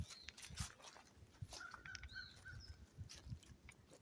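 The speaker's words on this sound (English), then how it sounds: "You can hear the birds." A few birds chirp in a spring forest near bamboo, with short, thin calls that are faint and distant over a quiet outdoor background.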